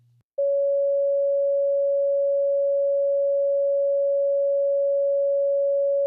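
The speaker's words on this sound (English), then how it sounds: "So this would be considered a mid-range tone." A pure mid-range sine test tone used for EQ ear training, starting abruptly after a brief quiet moment and holding one unchanging pitch at a steady loud level until it cuts off.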